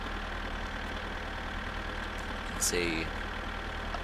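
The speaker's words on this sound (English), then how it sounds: "The tractor is so slow." A slow farm tractor in My Summer Car, its engine chugging at a steady low idle-like drone throughout, with someone talking over it and a brief higher tonal sound near the end.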